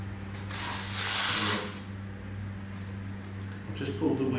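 The spring of an old clockwork toy from a museum collection is wound, producing a burst of fast, close ratcheting clicks followed by quieter mechanical sounds, with faint background hum and speech nearby.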